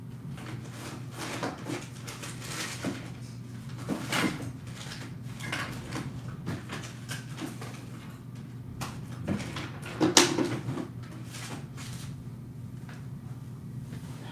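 Someone rummages through a drawer searching for a saxophone ligature, producing scattered clunks, slides and knocks of objects being moved at close range, with a few louder bumps.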